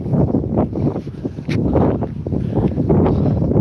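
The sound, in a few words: strong wind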